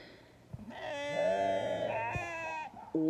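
Penned sheep during lambing season bleat loudly and close by in one long, wavering call of about two seconds, with a shorter bleat starting right after.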